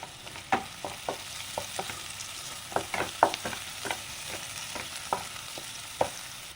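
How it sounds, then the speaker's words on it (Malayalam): Tapioca is fried in a pan with salt and curry leaves and stirred, giving repeated close scraping strokes of a spoon against the pan over a low sizzle, without any speech. "ഇനി നന്നായിട്ട് ഇളക്കി നമുക്ക് ഫ്രൈ ആക്കി എടുക്കാം"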